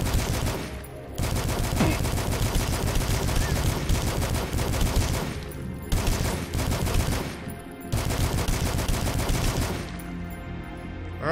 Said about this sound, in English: Alright, we got an assault rifle.